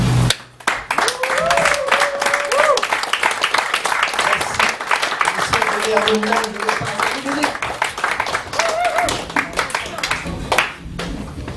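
A cheering audience at a spoken-word and poetry evening claps hard after a performer finishes, with bursts of whoops and voices rising over the dense, sustained clapping.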